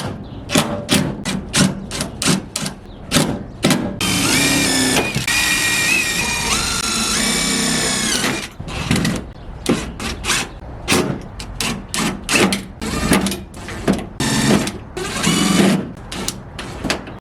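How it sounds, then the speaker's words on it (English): A power drill drives self-tapping screws into metal while fitting S10 flares on a Blazer, with rapid repeated bursts of drilling, a few longer continuous whines, and thumps between them, loud and close. "I am going to have to drill some new holes, or in other words, use self-tappers"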